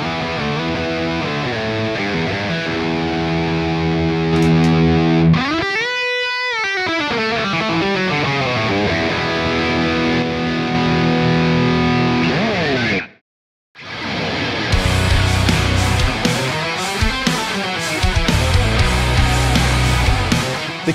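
An electric guitar plays chords and riffs through a VX Kraken MKII amplifier in crunch mode, with a gritty, crunchy overdrive, pausing briefly near the end before continuing; no talking.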